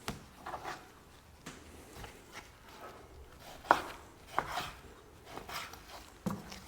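A knife cuts through meat for breakfast sausage on a board, irregular soft thuds, scrapes and slicing strokes at close range with quiet pauses between.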